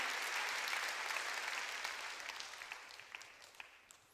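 A church congregation at a Sunday worship service breaks into dense applause that begins full and loud, then thins and fades over four seconds into scattered claps.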